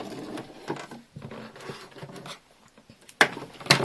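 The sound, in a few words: sewing machine stitching elastic onto fabric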